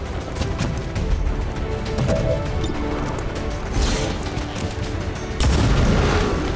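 A sharpshooter's pistol shot rings out in XCOM 2, with a few loud booming impacts standing out over a dense, continuous layer of game ambience. The heaviest burst lands near the end.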